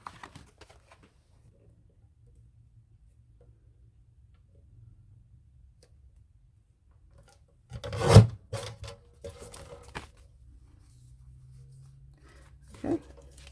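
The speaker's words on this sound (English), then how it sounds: "And then we'll just trim that off on the trimmer." A paper trimmer cuts a journal page: one sharp slicing crack stands out against near silence, followed by a few softer handling clicks and a last short snap.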